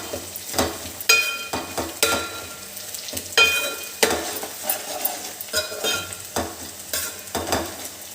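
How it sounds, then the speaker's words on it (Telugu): Onion pieces frying in a pan for chicken curry, close and loud, with a background sizzle broken by frequent rhythmic stirring scrapes and clatters of a utensil in the pan, no talking. "ఇగో ఉల్లిపాయ ముక్కలు ఇగో ఇలా మగ్గాలి."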